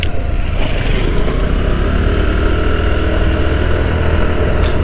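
TVS Jupiter ZX scooter engine revving up steadily, a continuous loud mid-pitched drone that stays up close throughout with no voices over it.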